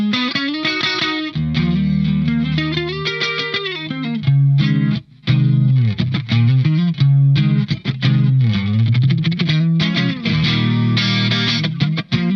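Warmoth custom electric guitar with EMG pickups played through a clean tone with effects, a continuous run of chords and melodic lines, loud and close, without talking.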